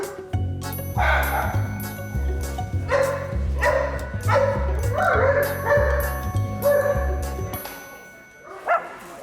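Excitable dogs bark and yip repeatedly in a vet clinic reception area, loud rhythmic bursts close by over a low steady background hum.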